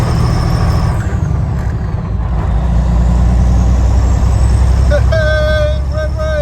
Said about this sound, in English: Manure trucks are flying around here today like honeybees.